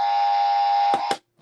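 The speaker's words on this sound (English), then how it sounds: "The buzzer" A loud, steady electronic buzzer drones for about a second, then a couple of brief knocks and it cuts off.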